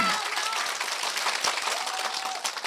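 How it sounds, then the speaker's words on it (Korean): Sustained applause from a lecture audience at a Saturday talk, dense steady clapping filling the room at close range, with some crowd noise mixed in. "박수"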